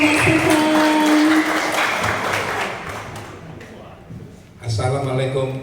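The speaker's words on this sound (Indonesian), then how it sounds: "Boleh tepuk tangannya dulu yang meriah untuk Bapak Stephen." An audience applauds at the opening of a Benelli motorcycle flagship store in Surabaya, a dense burst of clapping at the start that thins out, with a voice talking over it before a louder sound returns near the end.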